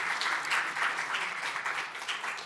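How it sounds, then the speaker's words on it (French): Steady applause fills a hall as an audience claps for three panelists at a conference panel on Quebec's place in international recognition frameworks, a dense, continuous wash of hands at moderate volume with no voices over it. "Ça mérite des applaudissements"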